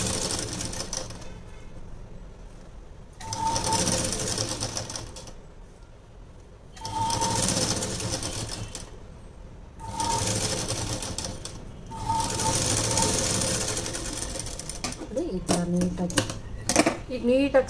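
Sewing machine stitching fabric lining, running in several steady whirring bursts of a few seconds each with pauses between, while a person talks throughout.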